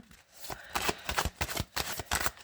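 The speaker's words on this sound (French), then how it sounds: "un dernier brassage des cartes" A deck of cards is being shuffled up close, a rapid series of crisp riffling bursts in quick rhythm, with no talking.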